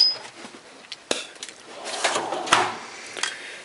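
A drawer on a shop tool chest holding vise grips, pliers and punches slides open or shut, giving a few scattered rattling clunks and scrapes of metal tools, close and moderately loud, with no talking.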